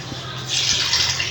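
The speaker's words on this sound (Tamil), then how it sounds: "தண்ணி ஊற்றிக்கலாம்" Water is poured from a tap or vessel into a grinder jar of garlic, ginger and green chillies for spice paste, a soft steady splash rising after a brief start and running close throughout.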